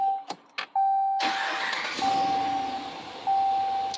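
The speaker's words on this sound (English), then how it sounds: "Let's make sure this truck starts before I let you go." A 2018 Ram 4th Gen pickup, just fitted with a new battery, cranks briefly and fires up loudly, settling into a steady close idle while a door chime beeps in repeated tones.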